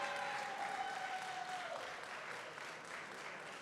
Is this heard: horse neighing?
no